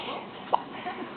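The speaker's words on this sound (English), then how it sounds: "You got the hiccups?" A single short hiccup pops out near the middle, a quick, close, throaty chirp against quiet background murmur, followed by a faint softer sound.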